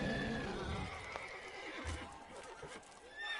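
The horse Roach neighs in the Witcher 3 video game, a clear whinny over game ambience with hoof clip-clops, close and moderately loud.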